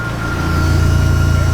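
Car engine droning steadily at highway speed around 130 km/h, a constant low rumble filling the clip with mild engine note, heard close from inside the car, in a Nissan S15 drift car.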